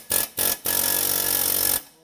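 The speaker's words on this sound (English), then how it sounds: "Now all we gotta do is hammer that guy down." An air hammer drives down a stuck ball joint rivet on a 2014 Chevrolet Trax during ball joint replacement, loud and close: two short bursts, then a sustained rattling run of about a second before cutting off.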